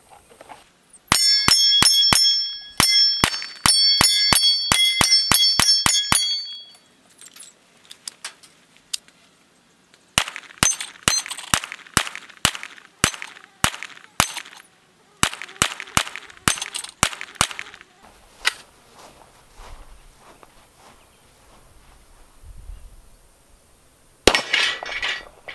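A Sig P320 X-Ten pistol fires in rapid strings of sharp, loud cracks separated by brief pauses and quieter handling noise.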